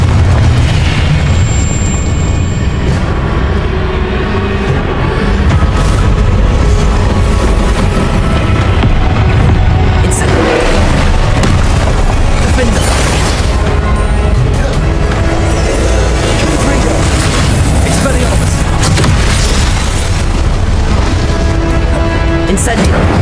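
Confringo fire-blast spells explode repeatedly during combat in Hogwarts Legacy, loud booming bursts piling up over dense game noise and music, with a voice speaking over parts of it.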